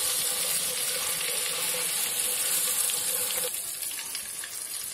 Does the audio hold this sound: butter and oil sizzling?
yes